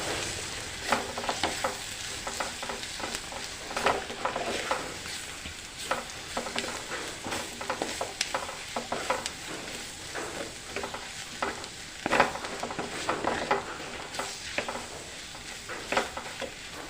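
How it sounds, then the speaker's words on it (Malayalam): Squid roast stirred in a pan over a low flame, a soft continuous sizzle broken by frequent scraping strokes of the spatula at an even, unhurried pace. "ഫ്ലെയിം വളരെ കുറച്ച് വെച്ചിട്ട് വേണം ഇളക്കാൻ അല്ലെങ്കിൽ പെട്ടെന്ന് കരിഞ്ഞു പോകും"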